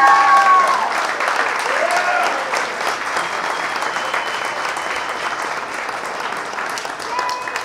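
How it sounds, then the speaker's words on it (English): Wedding reception guests applaud in a sustained, loud burst of dense clapping that holds steady for several seconds, with a few voices and cheers mixed in beneath the crowd's hands. "Let's give them a round of applause"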